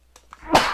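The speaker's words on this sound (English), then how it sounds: "I'm about to sneeze." A single sneeze bursts out loud and close after a couple of faint breathy intakes, trailing off into a short noisy exhale.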